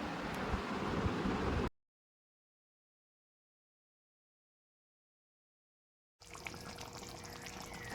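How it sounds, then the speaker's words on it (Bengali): Water is poured into a pan of potato curry, a short close splashing pour that gives way to silence before a fainter, noisy stretch resumes. "আমি এখানে পরিমাণ মতন জল দিয়ে দিচ্ছি দিয়ে খানিকক্ষণ ফুটতে দেবো"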